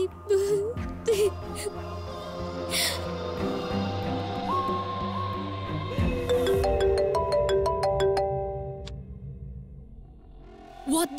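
A mobile phone ringtone chimes in rapid repeating pulses partway through, rising over indoor voices and a low background bed, then fading as the talk continues.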